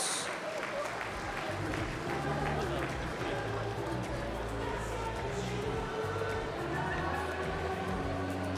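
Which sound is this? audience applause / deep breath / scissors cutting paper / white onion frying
audience applause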